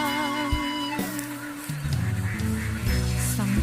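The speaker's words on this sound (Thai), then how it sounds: "ตอนนี้เราพาท่านผู้ชมเดินตามเป็ด ฝูงเป็ดเจ็ดพันกว่าตัวครับ" A large flock of over seven thousand ducks being herded through open paddy fields, honking and quacking in dense overlapping calls that stay loud and close throughout, with no talk.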